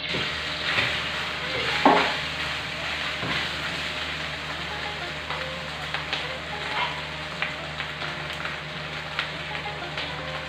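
Rice stirred into hot oil from fried garlic for garlic fried rice, a steady close sizzle and crackle with scraping stirs and a louder clatter near the start, no talking.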